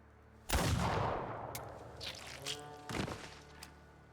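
A single gunshot in the video game The Thaumaturge, loud and sharp with a long decaying tail, followed a couple of seconds later by a second weaker blast and some faint clatter.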